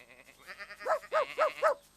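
A flock of sheep bleats in four clear, wavering calls that follow one another at steady intervals, close and moderately loud, with a faint murmur of other animals underneath.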